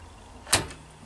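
A Dometic fridge door in a folding pop-up camper gives one short, sharp click or latch snap, close and isolated against a quiet background.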